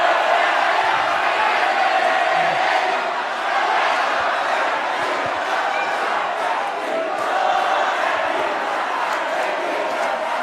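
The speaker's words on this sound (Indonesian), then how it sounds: "Sekarang baru boleh Bapak Ibu kasih Ya. tepuk tangan yel-yel, silahkan." Debate-hall audience at a West Java gubernatorial candidates' debate breaks into sustained applause and chanted cheering, a continuous roar of many voices and clapping without a pause.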